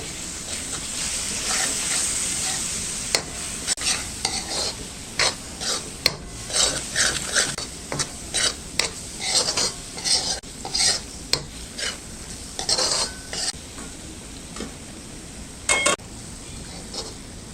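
Spices stirred and sautéed into a potato-pea gravy in a pan, a steady sizzle broken by repeated scraping strokes of a spoon, heard close with no talking.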